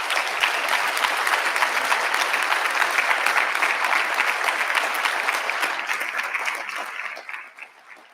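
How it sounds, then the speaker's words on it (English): Audience applause fills a conference room at an International Women's Day event welcoming the President of the European Central Bank, a dense, steady clapping from a large crowd that holds for several seconds and then fades out near the end. "A round of applause, ladies and gentlemen."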